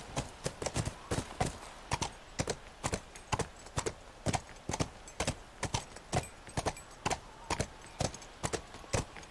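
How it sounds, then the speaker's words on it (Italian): Horse hooves gallop in the video game The Last of Us, a rapid, even clip-clop of sharp hoofbeats repeating throughout, close and clear, with no talking. "Vuoi che il cavallo faccia un salto del genere?"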